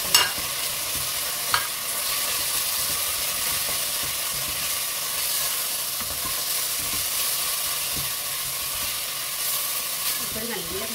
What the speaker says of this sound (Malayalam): അതുവരെ ഹൈ ഫ്ലെയിമിൽ തന്നെ വഴറ്റണം